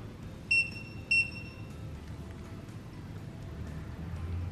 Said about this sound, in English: The buzzer will beep twice upon completion of the first cal calibration.